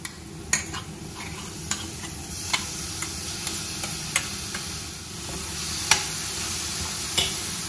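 Green chili paste with a little turmeric being sautéed in a pan over a low flame, a soft steady sizzle with light stirring and occasional sharp ticks of a spoon against the pan.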